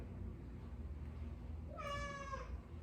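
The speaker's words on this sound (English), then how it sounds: "She's coming in to say hi. Maybe you can hear her meowing." A pet cat meows once, a clear drawn-out call standing out near the microphone over a steady low background hum, after a stretch of quiet.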